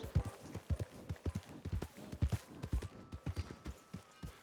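Horse hooves clip-clop steadily on the ground in Red Dead Redemption 2, a standardbred horse near Valentine, with a loud, regular walking rhythm and only faint background sound.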